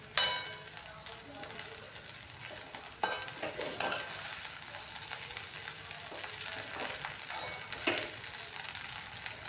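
Poha stirred in a hot pan, with soft scraping and stirring strokes over a faint frying sizzle, an occasional sharper clack of the spoon against the pan, close and fairly quiet.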